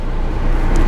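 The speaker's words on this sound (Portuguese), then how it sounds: "Primeiramente eu vou ligar o carro." A BMW 118i engine runs steadily after starting, a loud continuous low rumble with broadband hiss filling the cabin for the whole moment, no voices over it.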